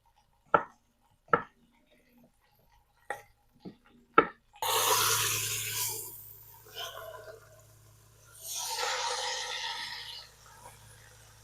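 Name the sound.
chopping potatoes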